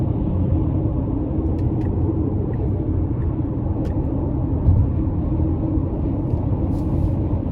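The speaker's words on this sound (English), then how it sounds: "just a fantastic ride coming down the interstate here." Steady low rumble of road and wind noise inside a 2016 Tesla Model X 90D cruising on the interstate, constant and fairly loud with no engine note and a few faint clicks.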